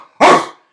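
A man imitates a dog's bark with a single loud, sharp woof, close and short, followed by silence.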